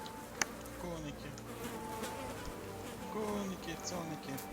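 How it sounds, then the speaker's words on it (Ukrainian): Grasshoppers chirp steadily in the Kingdom Come: Deliverance video game, a dense buzzing insect chorus over low ambient outdoor hum with a faint click near the start. "Коники."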